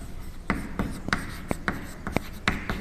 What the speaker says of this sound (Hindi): एक लाइन में यहां लिखता हूं